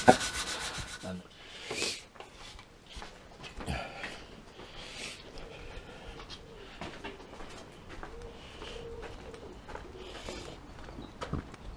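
Fine 500-grit sandpaper rubbing over a painted guitar body, a steady soft scratching that rises and falls in strokes throughout, moderately close with no voices.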